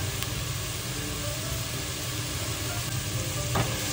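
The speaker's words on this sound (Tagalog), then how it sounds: "Huwag natin madaliin ang paggigisa." Ingredients sautéing in a pan for chicken tinola, a steady close sizzle and frying hiss running continuously with faint stirring scrapes and no talking.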